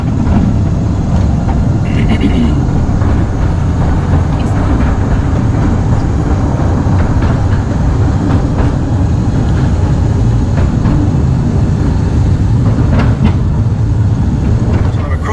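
A small narrow-gauge postal railway train in London rumbles along continuously with a steady low roar and faint rattling of wheels on rails, loud and close throughout.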